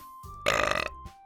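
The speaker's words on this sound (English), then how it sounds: "Monica burps." A single short, loud, throaty burp from Monica, a character in the dating-sim game DDLC, rising abruptly and fading within half a second, close up and alone.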